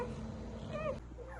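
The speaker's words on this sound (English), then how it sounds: "I'm here with Hazel and her 7 little golden doodle boys" Newborn goldendoodle puppies from Hazel's litter of seven males give faint, thin whimpering squeals, one longer cry and then a shorter one, over a low background hum.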